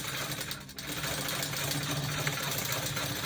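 A sewing machine runs without a break as it stitches a fabric bodice, with a steady mechanical whir and a rapid needle chatter. The sound is close and continuous, with one brief dip near the start and no voices.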